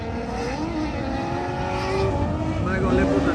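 Cars drifting at the Fuel Fest car show in West Palm Beach, engines revving and whining with rising and falling pitch over steady crowd and wind noise, while people nearby talk throughout.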